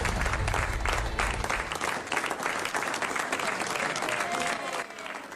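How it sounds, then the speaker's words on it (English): Loud, sustained applause from a large crowd with cheering voices mixed in, steady throughout and fading slightly at the end. "applause and cheers"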